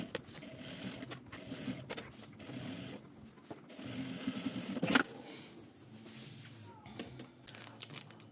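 A sewing machine topstitching a fabric piece for an advent-calendar sewing project: a steady, close mechanical whirring of the needle running continuously, with a brief clack midway and faint handling noise.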